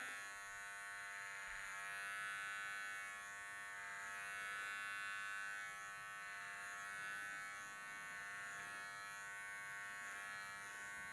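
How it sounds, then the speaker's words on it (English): An electric hair clipper buzzes continuously while cutting over a comb during a fade haircut, a close, steady motor drone with slight rises and dips as it moves through the hair. "you're going to use your clipper on the comb with the corner"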